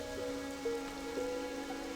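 Steady, soft rain falls in the Darkshore zone of World of Warcraft Classic, a faint, even patter with a low background drone and no voices.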